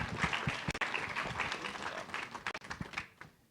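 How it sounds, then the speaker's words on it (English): Conference audience at a DevOpsDays event giving a round of applause, a quiet, distant patter of many hands clapping that tapers off over a few seconds. "Big round of applause"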